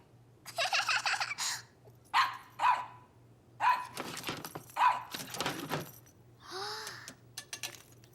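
A cartoon dog barks several times in short, sharp yaps mixed with other lively sounds, close and fairly loud, over a low steady hum.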